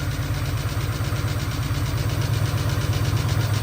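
A Ford SVT Cobra engine runs steadily at idle with a faulty lash adjuster, a close, continuous mechanical drone carrying a fast rhythmic ticking throughout.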